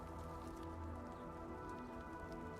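Steady rain patters on surfaces in the game world of Arknights: Endfield, a dense continuous hiss of droplets with no voices, evenly loud throughout.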